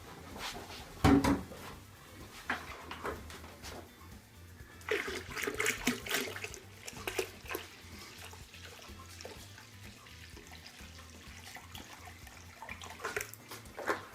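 Water is poured into a beer brewing pail, heard as gushing splashes in bursts between clunks and handling knocks, fairly close, with no talk.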